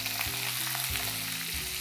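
Chopped onion fries in a pan for chicken lasagna, giving off a constant close sizzle and crackle with no voices over it.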